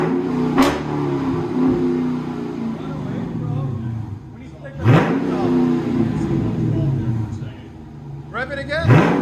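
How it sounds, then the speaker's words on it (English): A lowered car's engine revs hard through its exhaust, rising in three loud, close surges over a steady idle rumble while people talk nearby. "Rev it higher."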